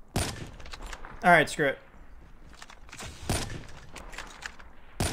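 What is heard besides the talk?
gunfire in the video game Call of Duty Mobile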